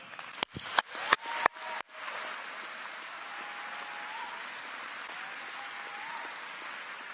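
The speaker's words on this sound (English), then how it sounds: "So, another round of applause." A commencement audience applauds graduates at a college ceremony, opening with a few sharp, loud claps before settling into steady, dense applause from a large crowd that holds an even level to the end.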